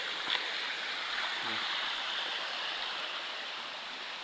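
A steady, broad rush of falling water at Agutayo Falls, a tall waterfall, fills the scene as a constant roar, with a faint voice briefly under it.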